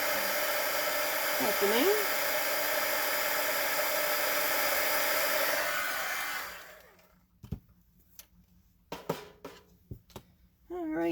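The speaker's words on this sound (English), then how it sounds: "we're just going to melt the powder with the heat tool" An electric heat tool blows a steady, close whirring hiss for about six seconds while melting embossing powder on a stamped card, then shuts off, leaving quiet with a few faint handling clicks and a brief voice.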